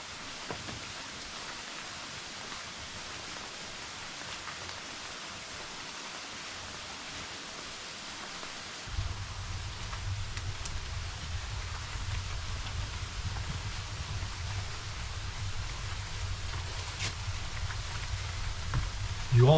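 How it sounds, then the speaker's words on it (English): Heavy rain pours down outside a man cave as wind blows, a constant broadband rush that grows louder and deeper partway through, with occasional faint knocks. "Winds howling and the rain's pouring down, you guys."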